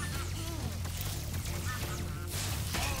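Chickens in the Spyro the Dragon video game squawk and cluck in short bursts over a dense, steady bed of game music and background ambience, with no talking.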